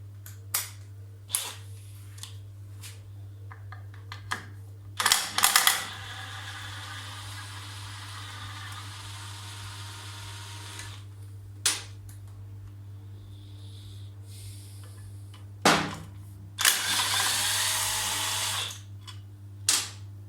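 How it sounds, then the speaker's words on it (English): Allen bolts being undone on the gearbox casing of a Triumph Trident T160 motorcycle engine during a rebuild, heard as a few short, sharp metallic clicks and cracks over a steady low hum in a quiet workshop, with no talking. "We can now remove the actual casing, and that is simply held on by 3 Allen bolts. So undo those 3 and the casing should come off."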